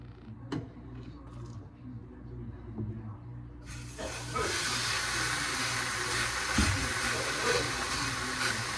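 A thick New York strip steak sears in a hot pan, a steady broadband sizzle that starts abruptly a few seconds in and holds loud and close to the end, after a quieter stretch of faint clicks and low hum.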